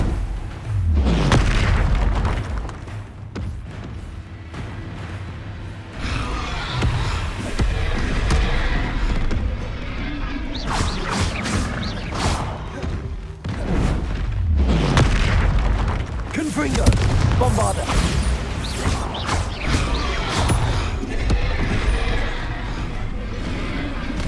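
Repeated Bombarda and Confringo spell explosions from Hogwarts Legacy thunder one after another, loud deep booms and bursts packed densely with crackling debris throughout.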